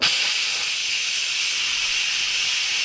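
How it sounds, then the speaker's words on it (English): A pressure cooker that has just cooked beans vents steam in a loud, steady hiss that runs unbroken and close for the whole stretch, then cuts off at the very end. "So they've done their 25 minutes, and I'm going to release the steam."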